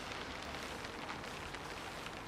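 Steady rain patters in an even broadband hiss beside a lake during winter carp fishing, close and continuous with no voices.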